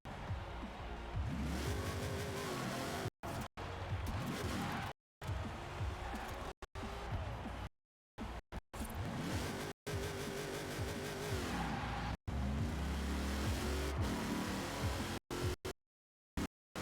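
A Corvette C8 in Forza Horizon 4 drives hard, its engine droning and revving with tire squeal and skidding, loud and near, broken by several abrupt cuts to silence.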